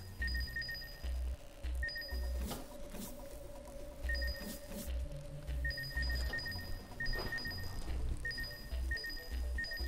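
Electronic beeping from the Ratchet & Clank video game, around an auto-hack program prompt: short, bright tones repeating in quick bursts throughout, over a low game hum.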